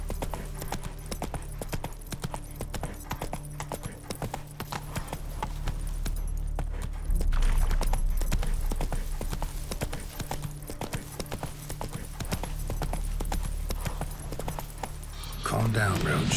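Roach the horse gallops across terrain in The Witcher 3, a steady continuous clip-clop of hooves under a dense game soundscape, with a voice speaking over part of it.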